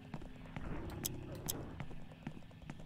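A girl runs in the horror game Yuppie Psycho, with quick, light footsteps pattering in a steady rhythm under someone talking.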